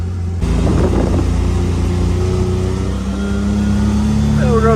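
2024 Ford Maverick pickup driving in Sport Plus mode, its engine a steady loud drone inside the cabin that rises slightly in pitch toward the end.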